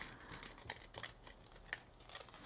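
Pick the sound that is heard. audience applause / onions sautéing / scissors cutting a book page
scissors cutting a book page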